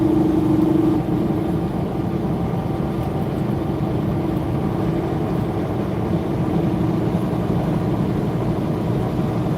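A steady low rumble of an old truck engine idling, constant and unbroken, at moderate distance with no voices.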